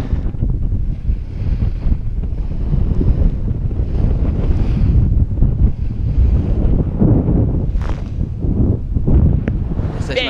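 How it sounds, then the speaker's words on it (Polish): Strong wind buffets the microphone over rolling waves at sea on the Baltic, heading out from Dziwnów toward Bornholm in force 4 to 5 conditions, a loud continuous rush with surging swells. "Trochę nam tu wieje, co nam tu wieje."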